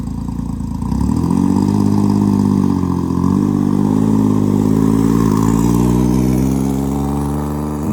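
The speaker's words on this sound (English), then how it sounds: "the bike runs strong and is ready for the road" A 1984 Moto Guzzi V65 SP motorcycle engine starts after a second and runs steadily, with a loud, continuous throb and a few rising revs, close up with no talking.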